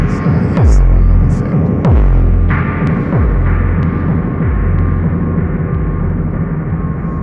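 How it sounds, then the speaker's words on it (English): A dense, washed-out reverb from a one-knob effect on an Ableton Push 3 and Eurorack setup swells into a low throbbing drone with smeared, blurry tails. "It's just like this kind of big, smeary reverb."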